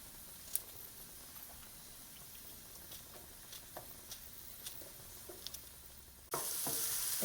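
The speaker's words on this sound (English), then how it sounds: "now I'm going to slice them up and saute them with the onion and the garlic" Sliced pepper tops sautéing with onion and garlic, giving a quiet steady sizzle and scattered soft ticks and pops from stirring. A louder wash of sizzle swells up right at the end.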